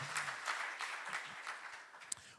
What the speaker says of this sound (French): On peut applaudir le Seigneur pour la nouvelle saison, oui.